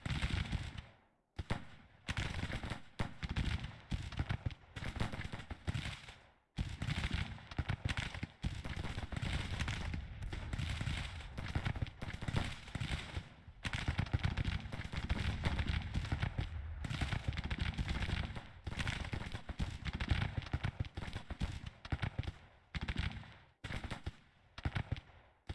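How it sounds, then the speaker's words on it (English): Dismounted troops firing at the enemy in the Grand Tactician 1864 Civil War campaign: ragged musket volleys crackle near and far in a continuous stream of pops, with a few brief gaps. "let's dismount these guys, have them start firing into the enemy"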